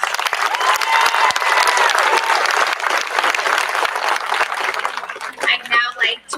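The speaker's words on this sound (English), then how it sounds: "Let's give these students one more round of applause." Loud, dense applause from a large crowd at an 8th grade promotion ceremony, sustained throughout and tapering off near the end.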